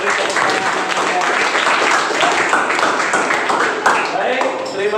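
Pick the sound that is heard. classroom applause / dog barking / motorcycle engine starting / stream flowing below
classroom applause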